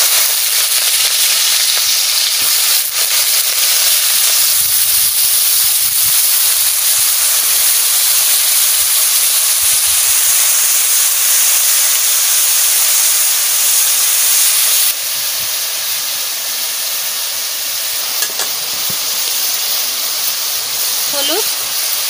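Papaya hits hot mustard oil with spluttered mustard seeds and sizzles loudly and steadily up close, the frying hiss easing slightly partway through but continuing to the end.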